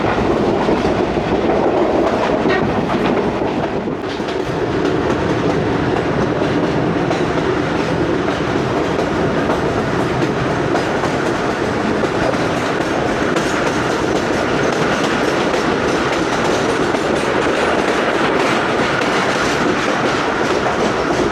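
The 8DN Tezgam, running with an old AC sleeper car on the Rawalpindi to Lahore line, rumbles along with steady clickety-clack of wheels on rails, loud and continuous from inside the train.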